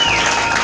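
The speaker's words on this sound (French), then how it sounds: "Est-ce que tu peux acclamer pour la gloire de Dieu?" A loud, dense burst of congregation applause during a church sermon in Lubumbashi, brief and filling the whole moment without pause.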